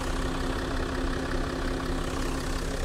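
A Range Rover Sport engine idles with a slight rattle, a steady close rumble holding an even level with no voices over it.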